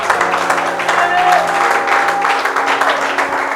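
A church congregation applauding and cheering in praise during a worship service, with loud sustained clapping and voices mixed through the crowd noise.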